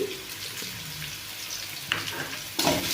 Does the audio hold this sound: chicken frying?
yes